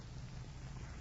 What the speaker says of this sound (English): What's it doing out? Raining.